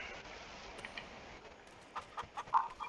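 Chickens in the Farming Simulator 25 video game, a flock of white hens kept free range around a farm building, give soft, scattered clucks that grow more frequent and louder toward the end, over a faint steady background hum.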